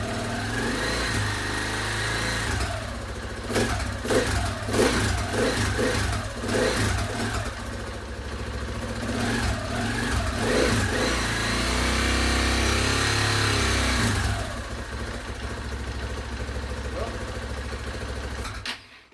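A KTM 690 Enduro R motorcycle engine, after rocker arm replacement, idling steadily and then revved repeatedly in short throttle blips before settling into a longer held rev, loud and close.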